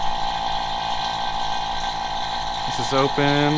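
An AC vacuum pump hooked to a Ferrari F430 drones steadily with a constant mechanical hum and clatter, while a person speaks briefly over it near the end.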